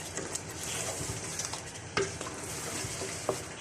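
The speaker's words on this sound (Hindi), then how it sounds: "और मिक्स करेंगे।" A spoon stirs yogurt and blended onion into sizzling beef badami korma masala in a pan, a steady frying hiss with a couple of sharper scrapes and clinks against the pot, close and unaccompanied by talk.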